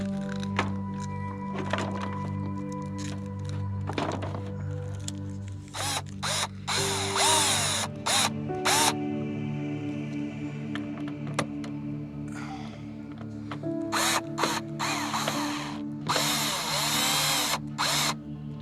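A power drill drives the supplied fasteners to mount a roof fan on a 2024 Ford Transit 250 camper van, sounding in repeated short whirring bursts with pauses and ratcheting clicks between them, close and moderately loud.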